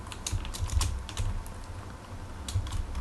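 Fingers tapping on a Commodore 64 keyboard, a quick irregular run of soft clacking keystrokes close by in a quiet room, with no talking.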